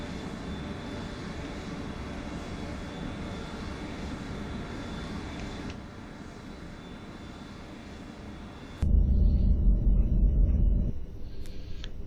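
An airliner taxis toward the runway in FSX Flight Simulator, a steady simulated engine drone that holds even, dips slightly midway, then swells into a louder, heavier rumble for a couple of seconds before easing back.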